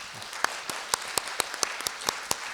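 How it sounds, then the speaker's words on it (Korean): Sparse applause from a forum audience for six panel experts after a debate on the Arctic shipping route, a handful of separate sharp claps spread over a few seconds, fairly faint with no talk. "다시 한번 토론해 주신 6분의 전문가분들께 큰 박수 부탁드리겠습니다"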